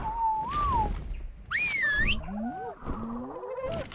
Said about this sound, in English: just keep whistling.